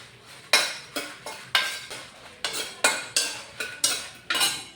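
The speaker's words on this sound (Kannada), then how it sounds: "ಇವಾಗ ನೋಡಿ ಕರಿಮೆಣಸಿನ ಕಾಳು ಹಾಕ್ತಾ ಇದ್ದೀನಿ" Black peppercorns hit a hot pan for a village-style bangda fish curry, then get stirred. Nine or so sharp, bright metallic scrapes and rattles come in a steady rhythm, close and fairly loud, with no voices.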